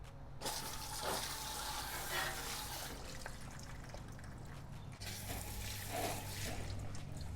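A no-pressure iCase foam sprayer hisses steadily as it coats dirty BMW brakes with cleaning chemical, in two continuous close bursts with a brief pause between them.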